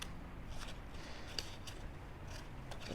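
Scissors snip paper while fussy cutting leaf shapes for a handmade card, a few faint, quick cuts at close range in a quiet room.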